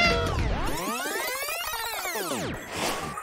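A small kitten lets out one long, drawn-out meow that rises and falls, loud and close, with a shorter sound trailing after it.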